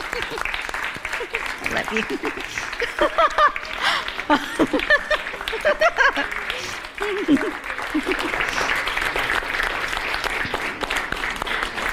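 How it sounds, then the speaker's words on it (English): Audience applause and cheering for the speaker's grandmother, a sustained dense clapping that runs through the whole stretch, with a voice speaking briefly over it near the middle. "Can we give my grandma a round of applause?"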